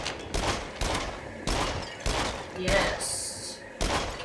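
Gunfire at targets in the VR shooter game Until Dawn: Rush of Blood, a series of loud, sharp shots at uneven intervals with a brief electronic tone, while a voice speaks briefly.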